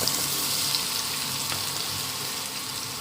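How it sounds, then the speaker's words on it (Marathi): Onions dropped into hot oil for a green peas masala, a steady broad sizzle and crackle of frying that holds evenly throughout. "तेल तापलं की त्यात कांदे टाकून द्यायचे"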